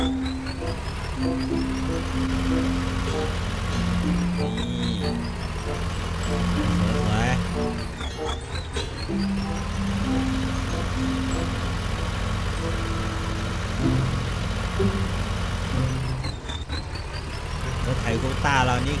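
Ford 7610 tractor engine running in Farming Simulator 19, a constant loud low rumble with steady tonal bands and occasional shifting pitches, unbroken for the whole stretch.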